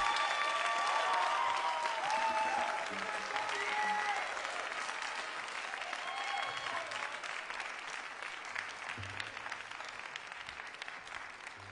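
An audience applauds a band at a Músíktilraunir concert. Dense, loud clapping holds steady and slowly thins, with faint crowd voices mixed in.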